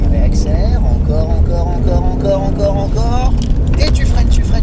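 A car on a driving course accelerates with a loud, close engine whose pitch climbs in repeated rising sweeps, while someone speaks over it.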